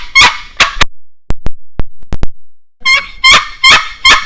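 A hand-made turkey call is blown in short bursts, a few sharp yelps at the start, several thin brief tones in the middle, then another run of yelps near the end, loud and close.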